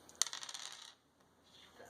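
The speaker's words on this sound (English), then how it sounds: "She's going to roll for movement. She gets 2 dice." Two dice are rolled for movement in a board game: a sharp clack, then a quick rattling tumble that settles within a second, followed by quiet.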